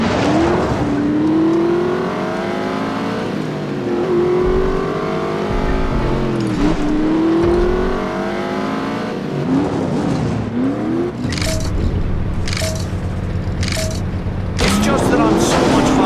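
Race car engines in a contraband street race in The Saboteur video game rev and rise in pitch again and again, loud and close with brief tire squeals, while people talk over them.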